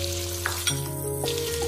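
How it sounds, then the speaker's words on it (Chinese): Pork belly stir-fried in a wok: continuous loud sizzling and frying with a few scraping stirs of the spatula, close and steady throughout. "继续翻炒，把五花肉也炒香"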